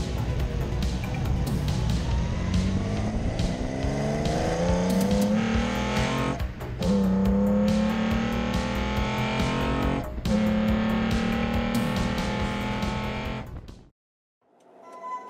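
A Toyota 1GZ-FE V12 engine runs loud and steady with rising and falling revs for about fourteen seconds, then cuts off abruptly into near silence.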